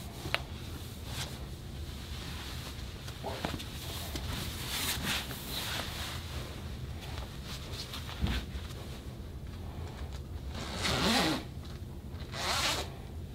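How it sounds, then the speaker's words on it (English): Zippers on a skeleton onesie being pulled, several quick zipping strokes close by, spread across the clip between rustling fabric, with two longer zips near the end. "I wondered why I had two zippers."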